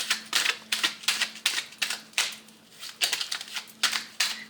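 Tarot cards are shuffled in quick, crisp bursts of riffling and slapping close by, falling into a steady, repeating rhythm with a short pause partway through. No one speaks.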